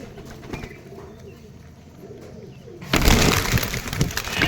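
Low pigeon coos sound quietly at first as a red high-flier pigeon is caught, then a loud burst of flapping wings or rustling breaks out and continues.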